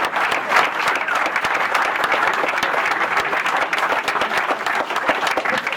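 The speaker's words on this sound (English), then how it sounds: "And let's give them a round of applause right now." A crowd gives a hearty round of applause, dense overlapping claps filling the room at a steady, loud level throughout with no voices rising above it.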